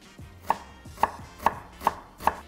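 A knife chops an onion on a board, five crisp, evenly spaced cuts close up, with quiet scraping in between and no talking.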